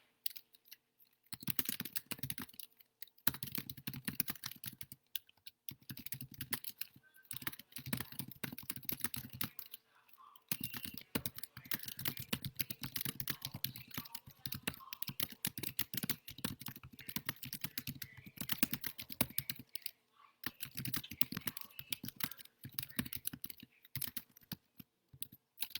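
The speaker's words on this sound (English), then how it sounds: "I'll type up the directions and then I'll do the activity with you" Steady typing on a computer keyboard, close and fairly quiet, with bursts of rapid key clicks broken by short pauses, no voices.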